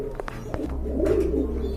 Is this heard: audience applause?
no